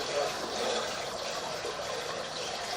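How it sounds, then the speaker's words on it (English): Water is flushed through a city sewer pipe during a camera inspection, a faint steady trickling and gurgling rush, continuous and distant-sounding. "We did flush a little bit of water just to help us clear our camera lens."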